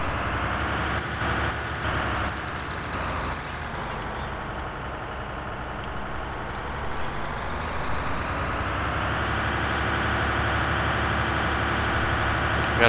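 A tractor engine in the Farming Simulator 2013 video game runs steadily with a loud, continuous drone that swells slightly toward the end, with no talk over it.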